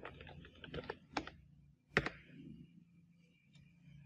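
Keys on a computer keyboard tap out a short search word in a quick run of close clicks, followed by one sharper, louder keystroke and then quiet.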